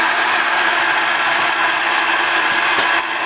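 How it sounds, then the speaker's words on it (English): A wood lathe spins up at a steady, loud, continuous whir as a wood block for a small chess piece turns, with a couple of faint knocks near the end and no talking. "I'll turn on the lathe."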